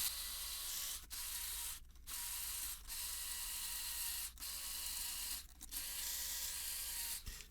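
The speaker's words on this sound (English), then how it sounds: "Get the tension off them." Guitar strings being unwound and slackened at the tuning pegs, giving a steady close ratcheting, grinding rasp broken by a few brief pauses, with no talking.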